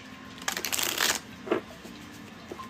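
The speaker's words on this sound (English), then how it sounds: "one more shuffle" A tarot deck is riffled in one quick shuffle, a crisp burst of flapping cards followed by a short tap and a soft settle, close and quiet with no speech.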